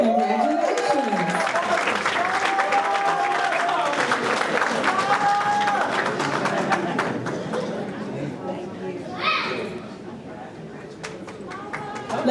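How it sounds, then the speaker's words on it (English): Crowd applause at a completion celebration ceremony, many hands clapping amid chatter and voices, with people talking over the clapping as it fades toward the end. "Let's give her a round of applause."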